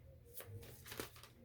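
Tarot cards being shuffled by hand, a faint, close riffle of soft papery flutters in a few quick bursts over a low background hum.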